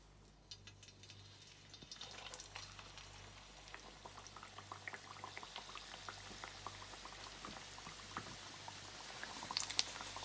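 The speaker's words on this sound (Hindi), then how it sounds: "और अब मैं इसमें ये समोसे फ्राई करने के लिए डाल रहा हूँ।" Samosas frying in hot oil on medium heat, a steady bubbling sizzle that builds gradually and stays fairly quiet and close throughout, with no talking.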